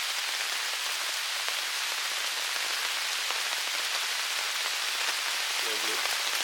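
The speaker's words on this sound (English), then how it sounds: "I love the sound of rain hitting the top or hitting a tent" Steady rain patters on a tent during a long thunderstorm at a solo wild camp, a soft even hiss of drops throughout with no talking.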